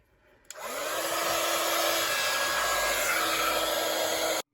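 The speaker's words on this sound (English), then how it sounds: "So just heat emboss that." A heat gun blowing on a card to melt embossing powder, switched on abruptly and giving a loud, steady, close-up whirring roar that holds for about four seconds before cutting off.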